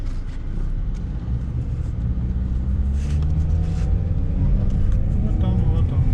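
A car approaches on a paved road near Suntar in Yakutia, its steady engine and tyre rumble filling the clip with faint voices underneath.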